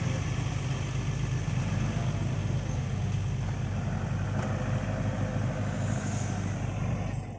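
A farm tractor's engine runs at a steady, low, droning idle close by on a narrow track, continuous and unchanging throughout, with no voices.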